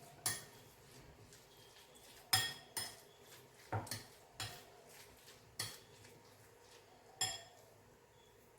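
A spoon stirs momo filling mixed with honey in a bowl, giving about eight sharp metallic clinks and taps against the dish, spaced irregularly over a quiet background.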